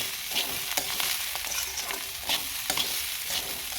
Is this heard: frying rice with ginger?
yes